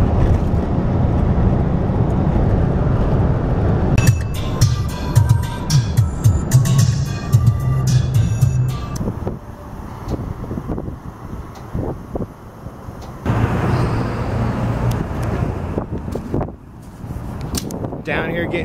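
Car driving early on a windy morning on the way to get gas, with steady road and engine rumble under heavy wind buffeting on the microphone, and someone talking over it.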